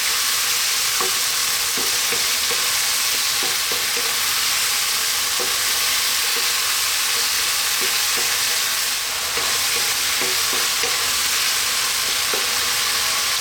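Rib eye beef and mushrooms stir-fried with light soy, a continuous loud sizzle with frequent light scrapes and taps from a spoon keeping the food moving, no voices.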